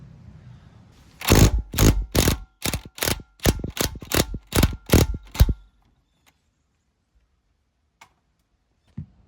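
Ratchet wrench working bolts off a car's upper control arm and ball joint suspension: a fast run of about eleven sharp, even mechanical clicks, close and fairly loud, then near silence with a couple of faint ticks.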